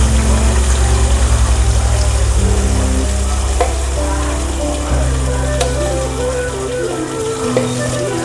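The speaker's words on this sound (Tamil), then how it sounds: "கரைச்சி ஊற்றணும், நல்லா வதக்கணும்." Rice flour batter with salt cooking in a pan for sweet milk kozhukattai, a loud close bubbling sizzle under a strong steady low hum like a nearby motor, with occasional stirring knocks and no clear speech.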